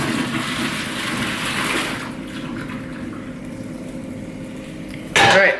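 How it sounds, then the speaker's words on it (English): Water poured out of a stovetop cooking pan after boiling broccoli, a steady splashing gush for about two seconds that fades to quiet, followed by a brief louder clatter near the end. "So all I'm gonna do is take the pan here and empty it."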